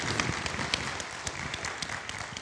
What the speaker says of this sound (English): let's give a rounding applause for Miss Lucille O'Neal